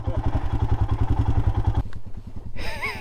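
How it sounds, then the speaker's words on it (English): A Royal Enfield Himalayan motorcycle rolling down a steep hill, its engine a loud, close, throbbing rumble that cuts off partway through and gives way to a brief voice. "I had D-Rock ride the Himalayan down the hill."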